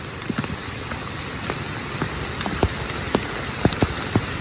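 Steady rain patters across a surface outdoors in a mushroom-gathering area, with scattered louder drips landing irregularly on top; no voices.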